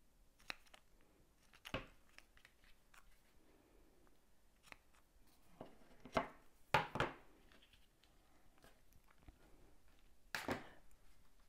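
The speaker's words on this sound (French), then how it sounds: "je coupe ce qu'il y a en trop" Scissors snipping off the excess ribbon or twine after tying a loop in a papercraft card-making project, a few short, sharp cuts scattered among quiet handling noises, close and fairly soft.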